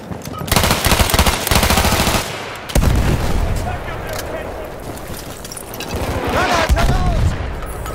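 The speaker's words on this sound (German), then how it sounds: "Feindliches Maschinengewehr!" Enemy machine gun fire in Battlefield 1 in the Argonne Forest, with rapid bursts of automatic shots, loud and close at first, then a longer rattling stretch with booms, while shouted voices sound over the fighting.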